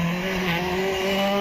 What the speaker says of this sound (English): if not enjoying himself as he goes up the hill there, Graham Middleton in that Mitsubishi Mirage R5